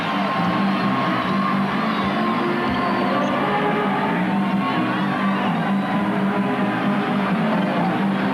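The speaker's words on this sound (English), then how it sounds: "And now the crowd trying to get into it" Basketball arena crowd at a 1995 NBA Finals game between the Magic and Rockets, a steady loud roar of many voices with scattered shouts and cheers, continuous throughout.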